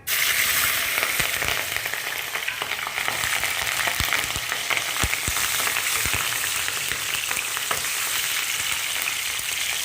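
Chopped onion and green chillies frying in about three spoons of oil while upma is made, a loud, steady close sizzle with scattered crackles and pops running throughout, no voices.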